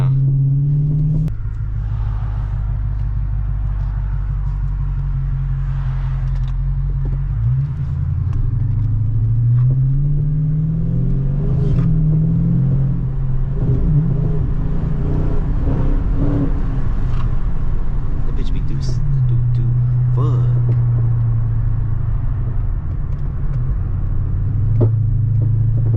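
A 2013 Dodge Super Bee driving on the road, heard from inside the cabin as a steady low engine rumble with a few shifts in pitch as it revs and settles, with no one talking.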